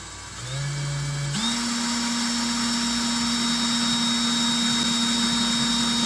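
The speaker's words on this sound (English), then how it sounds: "And this should drill easy. It's just aluminum." A power drill with a 3/16 bit whirs steadily, stepping up in pitch after a moment and holding a loud, constant whine as it bores through an aluminum bipod extension, with no talking.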